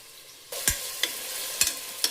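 Ginger paste sizzles in a hot pan as it is stirred, with a steady fry and several sharp scraping strokes of the spoon close by.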